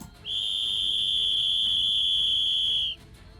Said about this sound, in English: a shrill, clearly somewhat magically amplified whistle blasts out